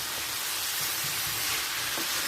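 Carrots, potatoes and green peas stirred in a hot frying pan, a steady sizzle with soft scraping and stirring underneath, fairly close and continuous.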